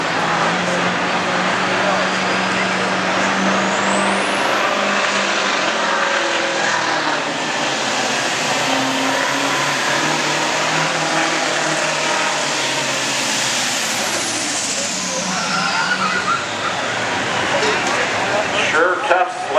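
An altered farmstock Massey tractor, likely a turbocharged D21, roars down the track at the 2013 DeKalb super pull. It makes a loud, sustained engine howl with a high turbo whine that climbs, holds and then falls away, and a voice is heard at times.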